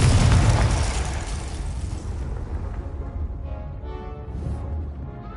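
Confringo fire spell explosion in the Hogwarts Legacy video game, one loud, close blast at the start that fades into a rumbling, crackling tail.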